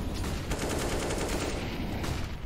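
Rapid gunfire bursts from a Counter-Strike match on the Dust2 map, dense and loud, with repeated shots packed over a steady background of game noise.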